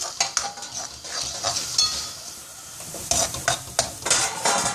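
A spoon scrapes and stirs the sweet Tirunelveli okarai mixture in a hot pan, irregular bursts of scraping and soft sizzle rising and falling, close by with no talking.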